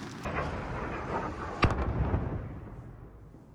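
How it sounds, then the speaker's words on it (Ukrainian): A sudden muffled boom rises out of steady low rumble, fading into a rolling tail: distant artillery explosions heard from afar in the city of Kherson, Ukraine. "Впродовж дня у місті лунають вибухи."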